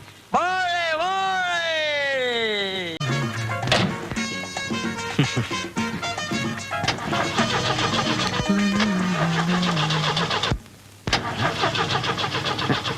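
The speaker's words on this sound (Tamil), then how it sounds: "ஏப்பா டிரைவர் வண்டி எப்பப்பா ஸ்டார்ட் ஆகும்" A car engine cranking and trying to start, repeated rising whirring turns of the starter followed by sputtering engine noise, loud and close, with voices talking over parts of it.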